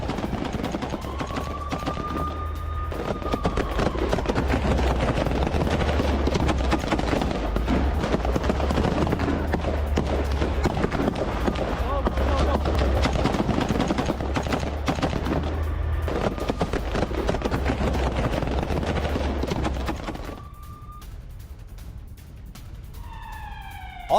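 Gunfire crackles in dense, sustained bursts during a close-range clash in Gaza, with a wailing siren-like tone rising over it. The racket stays loud for about twenty seconds, then drops to a quieter background.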